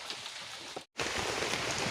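Heavy typhoon rain pours steadily on a banana farm as a dense, loud hiss. It breaks off briefly in the middle, then resumes at full force.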